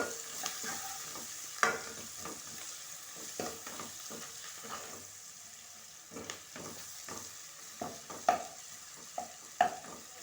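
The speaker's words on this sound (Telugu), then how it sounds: "పసుపు పసుపు ఇలా వేసుకొని మొత్తం తోటలు కలిపేసుకోవాలి" Chicken curry with turmeric being stirred and mixed in a pan, a steady low sizzle broken by irregular scraping clinks of the spoon, some louder knocks standing out, with no talking.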